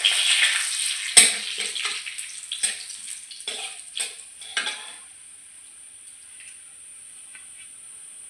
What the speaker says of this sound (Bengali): দিয়ে দেবো কালো জিরে ফোড়ন, দুটো তিনটে শুকনো লঙ্কা,